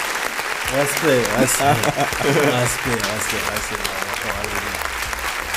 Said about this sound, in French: Je vous applaudis, franchement.